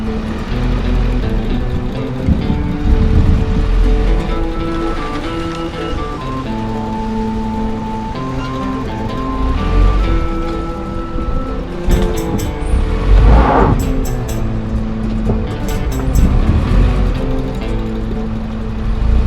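A car rolls slowly along a dirt road through Florida's Ocala National Forest, its engine a steady low rumble close by, with brief bumps and rattles partway through and no talking.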